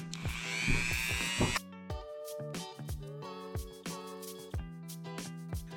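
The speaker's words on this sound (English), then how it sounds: "go ahead and Dremel in the reverse direction before I even get there, it seems to help" A Dremel rotary tool sands and shapes foam armor for a lobster costume, a dense whining grind for the first stretch, then shorter bursts of buzzing contact with pauses between, close and fairly loud.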